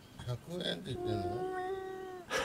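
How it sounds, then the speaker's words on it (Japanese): A cat meows in a drawn-out, voice-like tone said to sound like "100 yen", one long wavering cry after shorter chirps, close and clear, with a voice briefly at the end. "100円って鳴く猫が最近のマイブームです"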